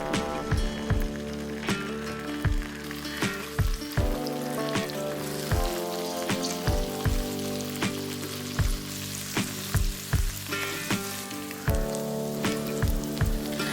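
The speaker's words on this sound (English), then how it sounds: "Heat some oil and fry the paneer pieces until they turn golden on both the sides." Paneer pieces pan frying in hot oil, a steady crackling sizzle with sharp repeated pops and taps of the pan throughout, fairly close and continuous with no talking.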